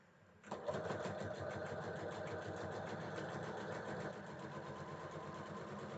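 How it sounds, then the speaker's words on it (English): A sewing machine top stitching fabric runs at a fast, steady whir after a sudden start, with its rapid needle rhythm staying close and continuous throughout. "So now I'm essentially top stitching"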